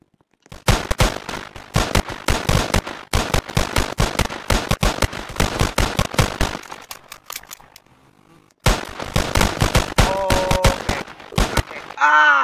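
Rapid gunfire from weapons in a Roblox cops game, made of loud, sharp, evenly spaced shots in two long bursts with a quiet pause between them, and a brief voice near the end.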